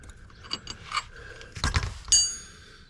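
A ratchet wrench works a bolt loose on the valve body of a 340 Duster: short, close clicking ratchet bursts and faint metallic clinks, with a brighter metal ping near the end.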